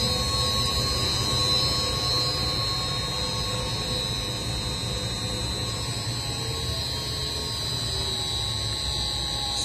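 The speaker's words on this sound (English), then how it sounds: "This is the vacuum kneader." A 100L vacuum screw discharge kneader with chiller, mixing epoxy resin, runs with a steady mechanical drone and a constant high whine, loud and continuous with no talk.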